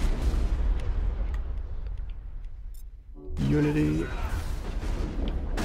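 Heavy booming shotgun fire in the video game Mass Effect, dense and loud through the opening seconds, a brief lull, then a blast alongside a synthetic voice.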